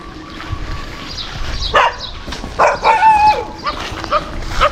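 Several dog barks and yelps arrive in short bursts from a moderate distance, over a steady outdoor background hum.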